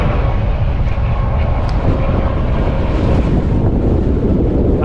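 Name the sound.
wind blowing beside a truck on Kansas turnpike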